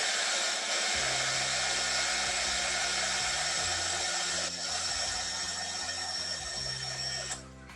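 A hair dryer heats resin art tape, a steady, close whirring blow with a constant high whine. Its pitch shifts slightly as the dryer moves, and it drops off near the end.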